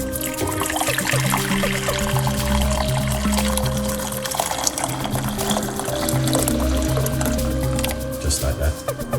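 Hot water pours steadily into a medium-sized pot while banana peel tea is being made. The liquid gurgles continuously and up close for several seconds, with a low background hum.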